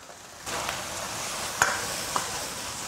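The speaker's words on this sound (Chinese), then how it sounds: "下入这个焯好水的罗汉笋跟木耳，大火快速的翻炒匀净" Blanched bamboo shoots and wood ear stir-fried over high heat give a steady sizzle, with a couple of sharp clinks from the spatula against the wok.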